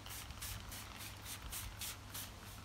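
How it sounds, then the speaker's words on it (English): A spray bottle squirts quickly and softly onto garden plants, about eight short hissing bursts in a rapid, even rhythm, faint and with no voices. "I'll spray underneath as well"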